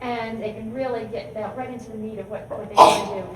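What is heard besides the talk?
sneeze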